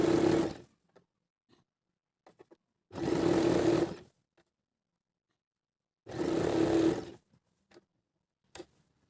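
A sewing machine stitching the neckline of a kameez in three short, close bursts separated by quiet gaps, with faint clicks and ticks of handling the fabric in between.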